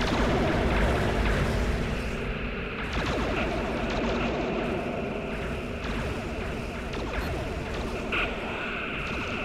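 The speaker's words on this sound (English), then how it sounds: "Big explosions." Big explosions from a Star Trek episode with a Borg cube, a dense continuous roar of blasts and rumbling booms filling the whole stretch, loud and sustained with no speech.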